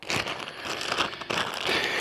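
A plastic bag crackles and crinkles up close while an archery training stretch band is unboxed, with busy, uneven rustling throughout and no talk.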